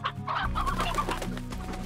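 Game hens from Slime Rancher keep up a dense run of clucks and short squawks, close and continuous over a low steady hum of in-game ambience, with nobody speaking.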